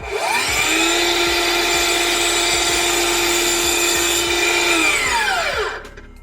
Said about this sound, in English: this is a leftover piece of trim we used before. We're going to do is set it back in our saw